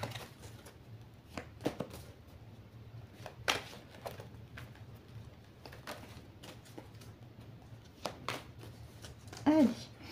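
A deck of oracle cards is cut and shuffled, giving soft papery riffles and taps in short scattered bursts against a quiet room.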